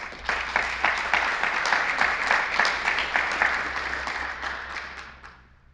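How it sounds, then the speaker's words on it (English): An audience at an annual meeting breaks into sustained applause, many hands clapping densely for several seconds before it fades out. "If we can give them a round of applause, please."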